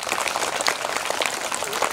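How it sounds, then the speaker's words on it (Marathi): Loud, dense clapping from an audience of children at an inauguration ceremony, a continuous burst of many hands filling the space without a break. "आता जोरदार अजून एकदा टाळ्या वाजवा."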